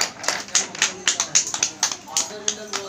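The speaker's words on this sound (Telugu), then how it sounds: "జాయ్కి క్లాప్స్ కొట్టండి" Quick bursts of clapping, about a dozen sharp claps in a steady rhythm, as an audience at a function applauds for Joy, close and fairly loud with voices underneath.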